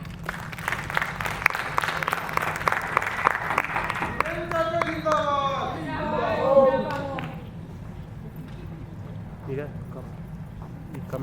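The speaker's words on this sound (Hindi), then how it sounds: "तालियां।" Applause breaks out at a gathering with scattered, crisp claps at the start, then fades as a voice speaks over it, and clapping trails off into quieter room noise.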